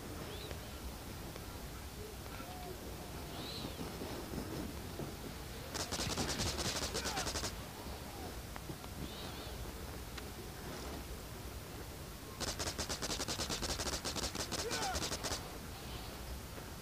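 Gunfire in the mobile shooter game Modern Strike Online, two sustained bursts of rapid automatic fire standing out over a constant dense hiss of game noise, fairly loud and close.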